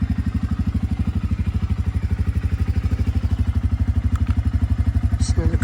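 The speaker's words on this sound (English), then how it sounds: "Just another cold start." A Suzuki Eiger ATV engine runs after a cold start, its steady rapid thumping idle loud and close, continuous and alone with a faint clatter near the end.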